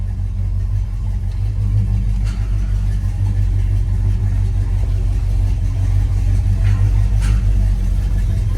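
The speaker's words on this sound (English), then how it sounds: "Motor sounds good." A 1970 Buick Electra's 455 V8 running while driving, a steady low rumble filling the cabin with faint road noise and no clear revving.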